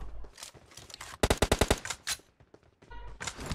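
Rapid bursts of automatic gunfire from PUBG Mobile crack out close and loud, a tight volley of about eight shots amid scattered quieter in-game shots and effects.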